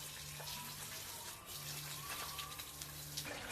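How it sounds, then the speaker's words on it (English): Faint, steady trickle of water from a tap poured into a jar of eggs for brine, with a low hum in the background and no talk. "pour water in the jar until the eggs are fully submerged"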